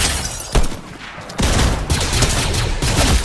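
Gunfire in the Fortnite video game: loud bursts of rapid shots start around half a second in and return in repeated volleys through the rest of the clip, with no talking.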